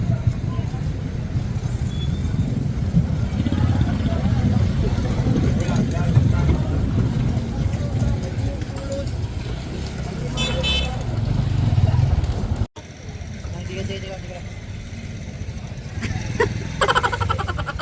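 Steady road traffic from many cars and motorcycles on a busy road in Daet, a dense continuous engine roar with occasional horn toots, loud and close throughout, briefly cut near the end.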